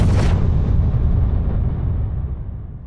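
A big explosion sound effect: one sudden loud boom that rolls into a long rumbling decay, fading gradually over a few seconds, with no talk.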